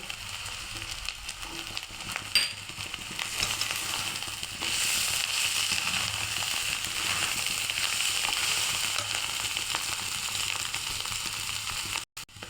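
Salt and cumin seeds tipped into hot oil for a Maharashtrian brinjal bharit, giving a loud, steady crackling sizzle that holds for several seconds before a brief clatter near the end.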